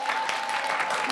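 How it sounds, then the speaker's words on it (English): Audience applauding for a student speaker at an online advocacy event, a short burst of steady clapping with a faint sustained tone beneath. "let's give a round of applause for him"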